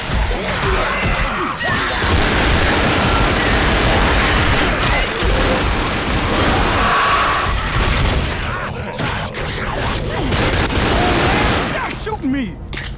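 Rapid gunfire bursts and booms from the zombie shooter game Left 4 Dead, loud and nearly continuous throughout, with players talking over the chaotic firefight.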